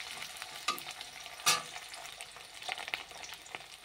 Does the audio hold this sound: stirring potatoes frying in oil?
yes